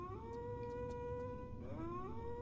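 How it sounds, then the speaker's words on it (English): Coyotes howl in the distance in a Tomb Raider level editor game, several long wavering cries overlapping and rising in pitch over a low steady background. "You hear some coyotes howling."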